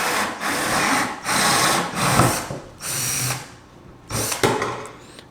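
A power drill cutting a hole in a hydroponic container, rocked back and forth, whirring in four or five loud bursts separated by brief pauses.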